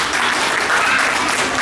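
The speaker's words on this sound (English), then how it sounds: "If you're ready, clap your hands" A crowd claps their hands at a children's fair cultural program before a Sanskrit play, loud continuous clapping from many people, close and even with no pauses.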